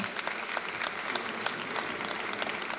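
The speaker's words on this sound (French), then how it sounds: "Vous pouvez l'applaudir" Audience at a building-industry closing keynote applauds Jean-Marc Jancovici as he comes on stage, a steady dense wash of clapping from a large crowd throughout.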